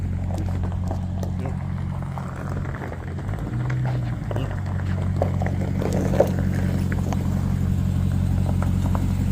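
A Ram Tremor pickup truck reverses, its engine a steady low idle rumble close by that swells slightly partway through, with people talking over it.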